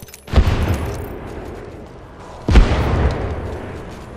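Two loud frag grenade blasts in Apex Legends, spaced about two seconds apart, each a sharp booming crack followed by a rumbling decay that lingers under the game's ambient noise.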